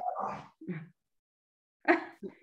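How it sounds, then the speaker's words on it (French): A pet dog gives two short pairs of soft, muffled barks or yips indoors, separated by a brief silence. "C'est mon chien."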